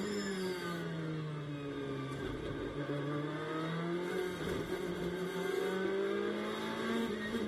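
A Ferrari GT race car in a Blancpain GT World Challenge USA race at Virginia accelerates off a corner, its engine a steady, fairly distant rising whine with shifting pitch and no talk.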